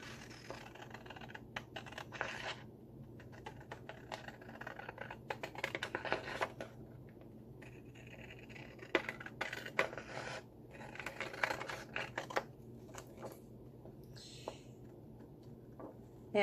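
Scissors snip through paper while an envelope for a shabby pink roses journal is cut out, giving close, irregular crisp cuts and rustles over a low steady hum, with a few short pauses.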